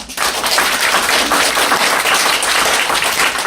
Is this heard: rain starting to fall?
no